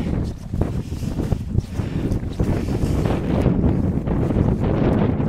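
Gusty wind rises on a mountain, buffeting the microphone in loud, uneven rumbles that build toward the end, with no voices.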